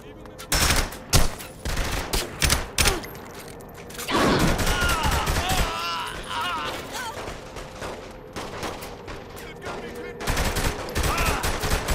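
Rapid bursts of automatic gunfire and heavy shots ring out in Saints Row The Third Remastered, with dense crackling volleys, a sustained rumbling stretch midway, and further loud shooting toward the end.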